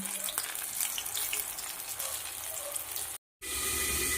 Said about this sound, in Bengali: তো এই যে ফ্রাই হচ্ছে, এই দুটো ফ্রাই হলেই হয়ে যাবে।